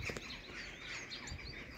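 A nuthatch at a bird feeder gives faint, high chirps against quiet outdoor background noise.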